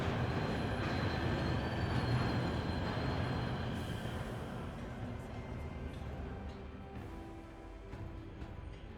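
Rumbling trains in the video game Rogue Trader, a heavy, continuous low rumble with metallic ringing tones that fades gradually toward the end, with faint speech-like sounds underneath.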